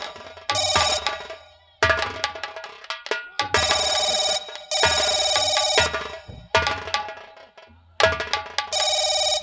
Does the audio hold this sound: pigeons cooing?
no